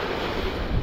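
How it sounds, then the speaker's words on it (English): Strong wind roars steadily across the microphone at a beach, a dense, constant rush blended with surf noise, loud and unbroken. "it's too windy"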